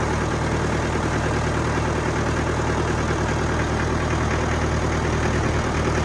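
Engine on a Fimco 60 gallon boom sprayer idles in a steady, continuous drone that stays close and even throughout, with no talk over it.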